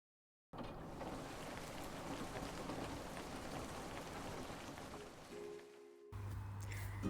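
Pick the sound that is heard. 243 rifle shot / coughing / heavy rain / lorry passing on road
heavy rain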